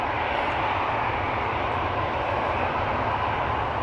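An airliner takes off at Amsterdam Schiphol Airport, its engines making a steady, broad roar at moderate distance that holds unbroken, with no talking.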